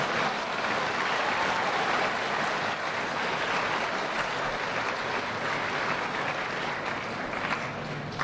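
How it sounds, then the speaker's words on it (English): Sustained applause from a large crowd, steady and dense throughout, with no voices standing out above the clapping. "let's give yourselves a round of applause for being here and all the good work that you do"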